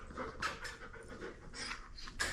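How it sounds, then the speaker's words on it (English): An anxious dog pants gently indoors after exercise, a steady run of soft, breathy huffs close by with no voices. "once we're inside, exercise is all done, the gentle panting is a negative sign, meaning he's anxious"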